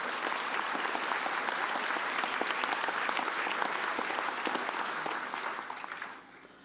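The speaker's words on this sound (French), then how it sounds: "Vous m'avez spoilé en applaudissant" An audience at a mayor's New Year ceremony in Dinard applauds steadily, a dense even patter of clapping held at moderate volume, fading out near the end.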